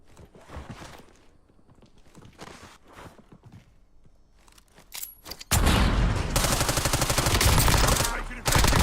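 Sustained automatic gunfire from the video game Warzone erupts loud and close, a rapid continuous burst following quieter footsteps and movement sounds.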